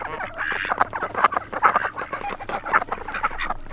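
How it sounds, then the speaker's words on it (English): A flock of ducks on a farm quacks loudly and close by during chores, with many overlapping calls in a steady, busy stream and no talking. "Hi, ducks."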